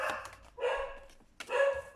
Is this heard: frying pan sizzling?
no